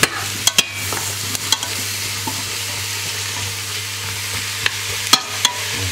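Button mushrooms frying in butter with onion, garlic and ginger give a steady broadband sizzle, with sharp utensil clicks and scrapes against the pan scattered through as the mixture is stirred; no one speaks.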